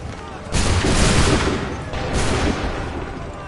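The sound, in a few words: volley of gunfire in Assassin's Creed 3 video game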